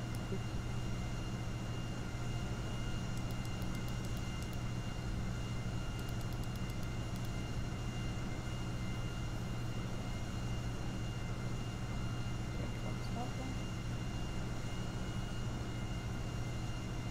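An airplane taxiing down a runway in GTA 5 makes a steady, continuous engine drone and hum that holds at an even level throughout, with no talk over it.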